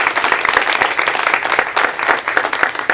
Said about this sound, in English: So I really give Jane a round of applause.